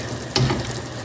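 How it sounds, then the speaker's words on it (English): Khmer beef and pork rib soup with kroeung bubbles at a steady boil in a pot, a close, continuous seething sound with a brief louder surge, no voices. "It looks like it's been boiling."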